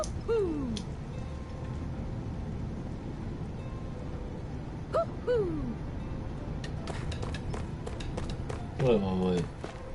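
An owl in the video game Tales of Arise gives a few hoots, spaced seconds apart against a quiet game ambience, with other game sounds toward the end.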